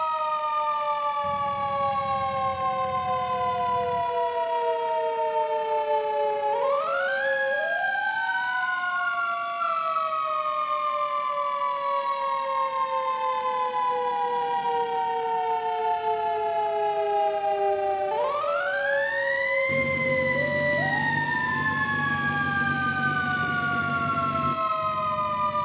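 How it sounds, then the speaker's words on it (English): Emergency vehicle siren in the EmergeNYC game, a loud wailing siren sweeping up and down in long repeated cycles, with a low engine rumble underneath at times and no talking. "I'll just hit the siren."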